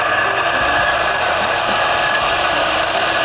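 A DF64 coffee grinder fitted with burrs runs continuously at a coarser setting, a loud steady whirring grind of beans with a bright, dense texture holding even throughout, close to the mic with no voices over it.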